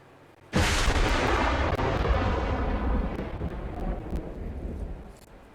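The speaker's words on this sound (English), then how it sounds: "As thunder and lightning crash outside, illuminating the inside of the building for a moment" A sudden crack of thunder crashes in after a moment of quiet during a tabletop RPG stream, then rolls on as a long booming rumble that slowly fades with rain behind it.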